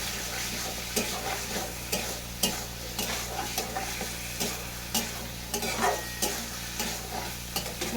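Chickpeas frying in a pan with steady sizzling and repeated scraping stirs of a utensil, sounding close and moderately loud with no talking.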